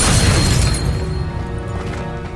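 Depulso force spell striking in the video game Hogwarts Legacy: a loud, crashing burst of impact that rings out and slowly fades over a couple of seconds.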